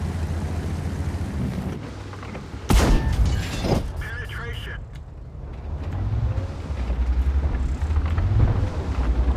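A single heavy cannon shot booms out from an M4A1 Sherman in a tank video game, a sharp broadband blast near the three-second mark with a few smaller cracks after, over a steady engine rumble while someone talks.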